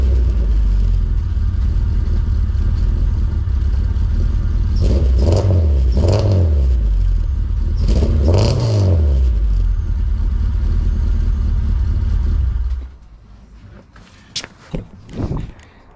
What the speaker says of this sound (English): I'm gonna turn the car on for a little bit just to see how it sounds like and shut it off